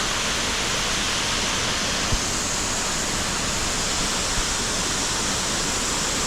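A waterfall in Thailand fills the air with an unbroken, even roar of falling water, steady and close with no voices over it.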